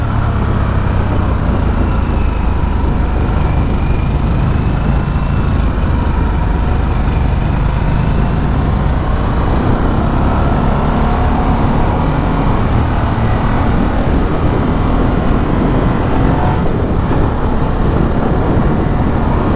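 A Harley-Davidson motorcycle at a demo day rides along with a loud, steady engine drone mixed with rushing wind noise, never letting up, with no talking.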